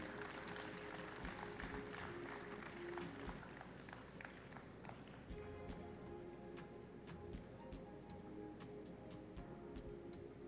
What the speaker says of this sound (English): Let's have a round of applause for all of our winners